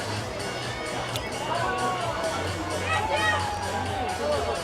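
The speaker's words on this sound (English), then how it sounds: "As the crowd starts to pour into the stadium" Crowd murmur and chatter at a baseball stadium as fans pour in before a game on a fine day, a steady broad hubbub with scattered voices and movement throughout.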